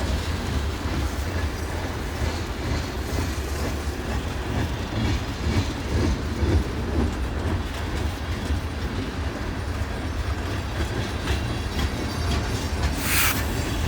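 A train rolls through a crossing with a manned pusher locomotive at the rear, a steady loud roar of wheels and rail clatter filling the whole stretch, with a brief squeal near the end.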